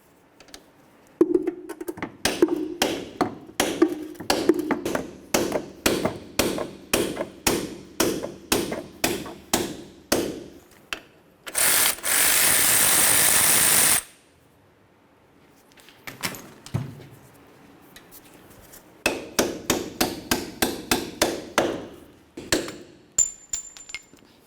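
Repeated metal-on-metal hammer blows on an 18mm socket driving out the CV axle of a 2005-2010 Chevrolet Cobalt, struck in fast steady runs of sharp taps with a brief loud burst of hiss between, close and loud.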